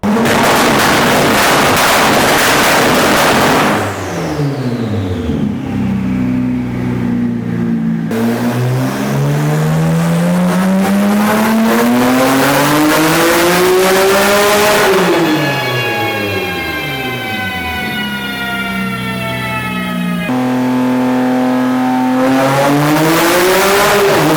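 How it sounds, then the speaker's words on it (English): A 580-horsepower Toyota Supra engine revs hard on a dyno, climbing and falling through the gears repeatedly with a loud, continuous roar. "let's see what it looks like and sounds like at the dyno with the new motor"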